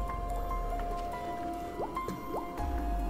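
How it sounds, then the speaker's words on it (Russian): Water drips in a dark sewer in Garry's Mod, a few distinct plinking drops with rising pitch sweeps over a steady low hum and faint tonal drone, heard alone without talk. "Тут вода капает, так стрёмно."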